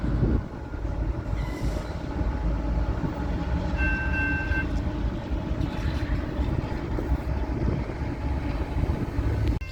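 CSX freight train led by an ET44AH locomotive pulling in, a continuous heavy rumble with a brief tonal horn-like note in the middle, steady and fairly close throughout.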